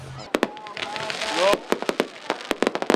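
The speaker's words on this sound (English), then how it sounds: "People lined the beach, boardwalk, and dune fences to watch the fireworks show in Rehoboth Beach." Fireworks explode over Rehoboth Beach in a rapid series of sharp cracks and bangs, loud and close, with crowd noise and voices beneath them.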